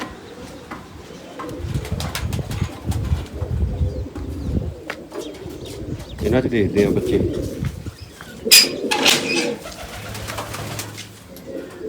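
Pigeons in a loft coo steadily close by, low repeated rolling calls overlapping, with someone talking over them and occasional faint chirps.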